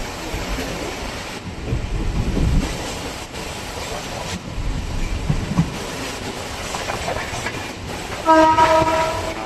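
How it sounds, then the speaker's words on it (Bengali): A local train rolls into Kalyani station with rumbling wheels and clatter, swelling louder in bursts before a tonal horn sounds near the end, close and loud. "সেই সাথে আমাদের ট্রেন প্রবেশ করছে কল্যাণী স্টেশনে।"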